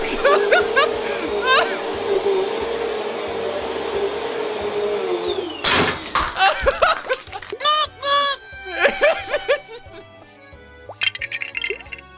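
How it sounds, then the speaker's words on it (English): A steady droning hum gives way to a sudden loud crash of plastic Lego pieces breaking apart, followed by scattered clinks, pops and assorted quick effects. "Oh, some Lego broke."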